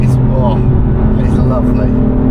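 A BMW F82 M4 Competition's engine and exhaust drone loudly and steadily throughout, a close, continuous rumble with people talking over it.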